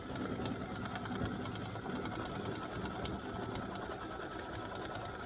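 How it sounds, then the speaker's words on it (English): Embroidery machine stitching a dress design on an in-the-hoop Valentine's gnome mug rug panel, a steady, loud, continuous mechanical whir with rapid needle rhythm throughout, no talk. "let me go back to sewing, embroidering. So, color stock 11 stitches her dress."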